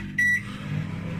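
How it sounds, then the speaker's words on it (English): A microwave oven softening butter gives a single short high beep, then its steady low hum continues. "when we soften butter in the microwave, it has to be for maximum 30 seconds"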